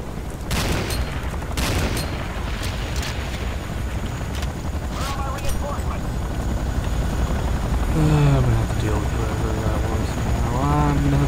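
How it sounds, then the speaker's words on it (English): Enemy helicopter in the game Renegade, a steady loud rotor drone running under constant gunfire and explosions, with sharp shots near the start and a voice talking briefly toward the end. "Enemy aircraft detected."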